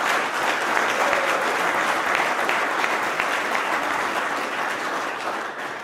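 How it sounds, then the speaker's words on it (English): An audience at a mayor's opening address gives a sustained round of applause, a full, even roar of many hands clapping that holds steady throughout and tapers slightly at the close. "big round of applause as well."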